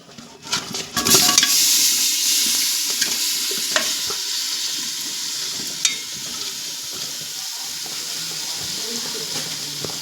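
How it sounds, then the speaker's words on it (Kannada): Pre-boiled chicken pieces frying in a pan give a steady, close sizzle, with a few stirring clatters of utensil against pan near the start. "ಇವಾಗ ಮೊದಲೇ ಬಾಯ್ಲ್ ಮಾಡಿ ಇಟ್ಕೊಂಡಿರೋ ಚಿಕನನ್ನು ಪ್ಯಾನ್ಗೆ ಹಾಕ್ತಾ ಇದ್ದೀವಿ."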